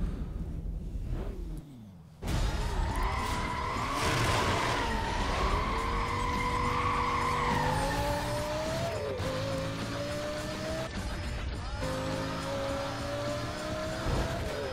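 Lamborghini Gallardo in the racing game Need for Speed Legends, engine droning loud and steady, rising and shifting through gears with tire squeals and skidding, one continuous drive with no talk.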